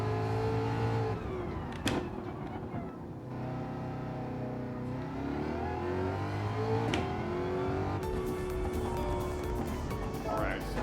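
Racing car engine in Gran Turismo 7, a steady near drone with rising and falling pitch as it accelerates and shifts through gears, a couple of sharp transients along the way, with someone talking over it.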